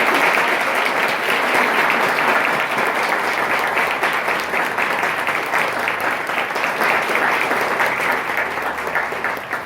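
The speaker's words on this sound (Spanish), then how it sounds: "Un aplauso a la doctora." A large audience applauds a doctor, Selma Ancira, at a formal presentation, dense steady clapping filling the room for nearly ten seconds with no break.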